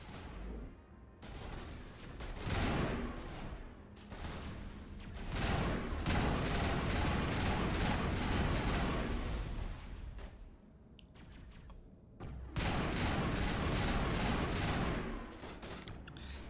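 Gunfire in the video game Mass Effect Legendary Edition fills the scene as repeated bursts of rapid shots, loud and dense, with brief quieter gaps between volleys.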